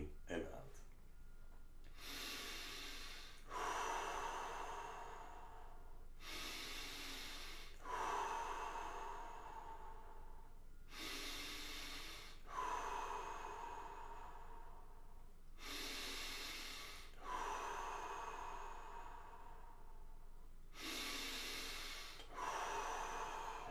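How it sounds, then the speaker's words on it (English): Deep, slow breathing in and out during a guided breathing session, each long breath audible and close with a soft airy rush, repeated in a steady rhythm with brief quiet gaps between breaths, no talking. "30 deep breaths in and out"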